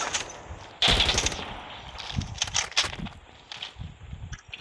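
Gunfire in the mobile shooter game Call of Duty Mobile comes in several sharp bursts of rapid automatic shots, spread unevenly with brief gaps and some footstep-like thuds in between.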